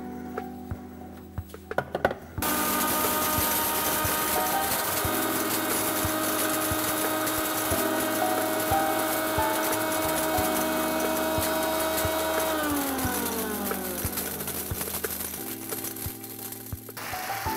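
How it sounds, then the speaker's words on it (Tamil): A mixer grinder grinds hot Chettinad chicken masala, starting with a few rattles, then a loud continuous whirring roar that holds steady, shifts pitch partway and slows toward the end. "இப்போ நம்ம இதை அரைக்க போகிறோம்"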